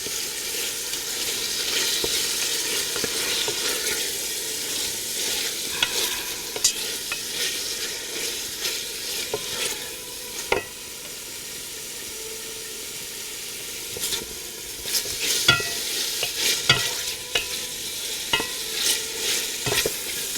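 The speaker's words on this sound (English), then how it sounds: "And then you're going to brown the onions." Chopped onion browns with lamb meat in a pan for Greek manestra lamb stew, a steady sizzle and hiss broken by stirring clicks and scrapes of the utensil, no voices.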